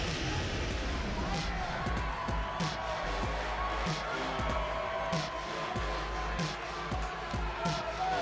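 A live arena crowd in the WWE 2K wrestling video game cheers and roars in a steady, dense wash of noise, with rhythmic claps or stomps pulsing through it and no clear voices.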